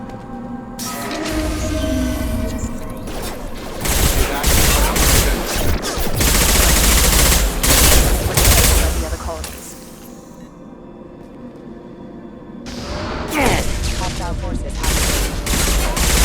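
Bursts of rapid gunfire in the video game Mass Effect 2, loud sustained volleys that rise and fall across the clip, with a brief lull midway, mixed with voices and game sounds.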